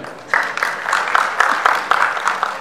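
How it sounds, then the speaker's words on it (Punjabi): Audience applause at a promotional event for the Punjabi film Banjara: The Truck Driver with Babbu Maan, a dense burst of clapping that starts abruptly and carries on steadily and loudly to the end. "ਇੱਕ ਵਾਰ ਜ਼ੋਰਦਾਰ ਤਾੜੀਆਂ ਵਜਾ ਰਹੀ"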